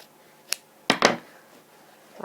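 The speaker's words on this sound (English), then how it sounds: "I'm going to trim down this right fly extension because I don't need this anymore." Scissors trim away a trouser fly extension just beyond the zip, giving a few short, close snips with a soft rustle of fabric in an otherwise quiet room.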